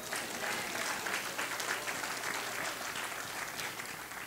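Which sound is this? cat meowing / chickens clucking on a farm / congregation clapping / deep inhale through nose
congregation clapping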